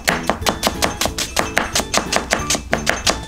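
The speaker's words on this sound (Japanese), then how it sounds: "千切りにしてって全然大丈夫なんですね。" Myoga ginger being julienned with a kitchen knife on a board, a rapid, even series of loud crisp chopping taps, roughly five or six per second, close up with no talking.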